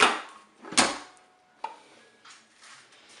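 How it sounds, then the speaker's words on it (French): Lid of a Cookeo multicooker being opened: a couple of sharp clacks with a breathy rush, then a softer knock and faint, scattered rustling. "On va ouvrir notre cookéo."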